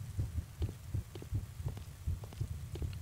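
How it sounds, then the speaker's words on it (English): A heartbeat sound effect from the video game Kidnapped thumps low and steady in rapid double beats, repeating evenly throughout at a moderate level with no talking over it. "Heartbeat, heartbeat."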